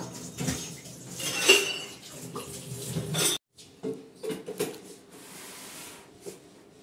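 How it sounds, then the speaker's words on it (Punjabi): Glasses and small utensils are washed in a home kitchen sink, with repeated clinks and scrapes of metal and glass under running water, some loud clatters and a short silent gap partway through. "ਗਲਾਸ ਮਾਂਜ ਤੇ ਆਪਣੇ"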